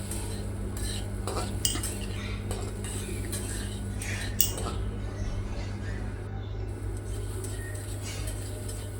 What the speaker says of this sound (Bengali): গরম হয়ে আসলে চিংড়ি মাছগুলা একটু কড়া করে ভেজে নিব।